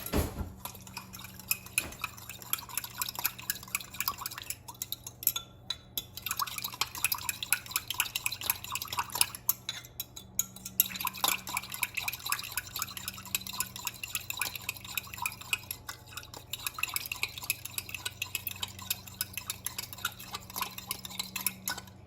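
Beef teriyaki marinade with cornstarch stirred in a bowl, a steady run of light scraping and clinking of a utensil against the dish with wet swishes, close, with brief pauses.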